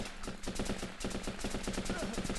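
Rapid bursts of rifle and machine-gun fire in the video game Running With Rifles, a dense stream of sharp cracks close by, loud and continuous with no pauses.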